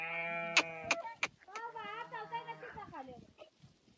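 Sheep and goats of a travelling herd bleat close by, several quavering, wavering calls overlapping in quick succession over about four seconds.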